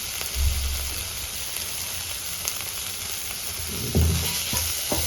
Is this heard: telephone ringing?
no